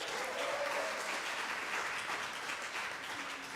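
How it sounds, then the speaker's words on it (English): Sustained audience applause for a soloist at a service with choir and musicians, a dense, even wash of many hands clapping at once, steady and fairly close throughout. "please also give a round of applause to Linda Alvarez"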